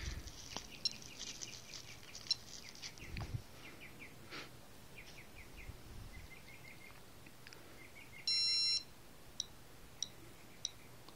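A Casio game watch alarm gives a short electronic beeping burst partway through, quiet and brief, amid faint scattered clicks and ticks in an otherwise hushed setting.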